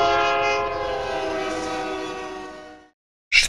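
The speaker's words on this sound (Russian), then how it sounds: "Там поезд" A train passes in the video game Mind: Path to Thalamus, a loud sustained horn-like tonal drone that fades out and ends, followed by a brief bright burst after a moment of silence.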